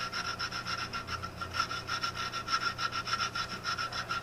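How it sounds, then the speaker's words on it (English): Hand draw filing on a metal part for a homemade gear cutter, a quick steady run of rasping strokes, close and even, with no talk over it. "Got a little bit of draw filing to do here."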